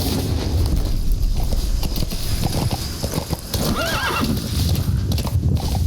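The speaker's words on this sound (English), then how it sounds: "I'm gonna go grab my horse." A horse in Metal Gear Solid V clip-clops at a steady gait, then lets out a clear whinny in the middle, with wind noise behind it.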